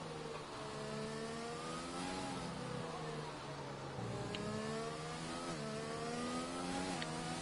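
Onboard racing-car engines in a video game race at the China round, a continuous loud whine that climbs and drops as it shifts through gears, steady and close with no voices.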